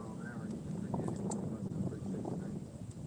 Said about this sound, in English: I didn't think it was going to be this windy